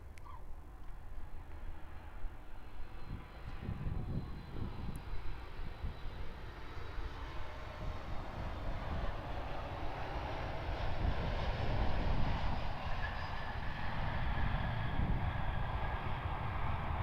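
An airliner arriving from Kuala Lumpur lands at Perth Airport, with a broad engine roar and rushing noise that swells toward the end of the touchdown and rollout, heard from a distance and without talk.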